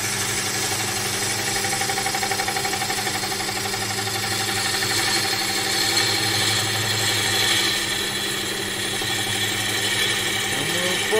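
A lathe spins African blackwood while a gouge cuts it, producing a steady loud mechanical hum and whir with a fine continuous chatter throughout and no pauses.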